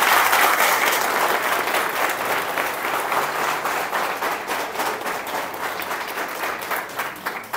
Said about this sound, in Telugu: సో ఒకసారి మరోసారి గట్టిగా క్లాప్స్ ఇవ్వండి.